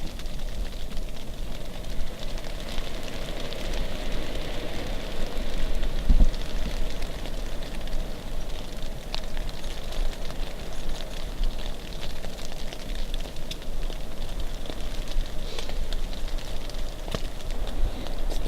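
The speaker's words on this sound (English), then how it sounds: "Still raining away out there." Steady rain pattering on a tent during a December winter camping trip at Whisker Lake Wilderness, a continuous dense hiss of drops with occasional louder taps, close and even throughout, with no voices.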